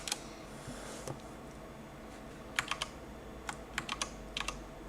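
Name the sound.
typing on a computer keyboard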